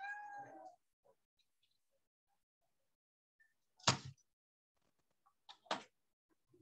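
A cat meows clearly at the start, wanting to be let out through a door, followed by quiet gaps and then a few brief knocks and bumps as the door is handled.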